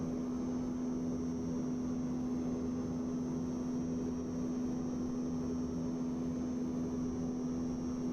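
Aircraft in a flight simulator game flying the Mach Loop, a steady continuous engine drone with a constant hum, heard alone without talk throughout.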